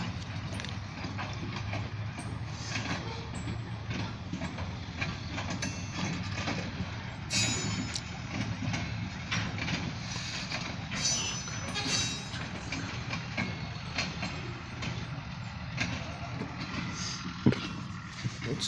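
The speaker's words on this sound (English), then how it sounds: "We have a longer freight train coming." A very long freight train rolls steadily past at a freight yard in Titusville, heard as faint, continuous rumbling with rhythmic wheel clatter over rail joints and one sharp metallic clank near the end.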